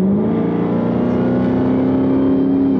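A car engine accelerates hard, a loud, steady rising drone heard from inside the cabin, continuous and unbroken for a few seconds with no talk.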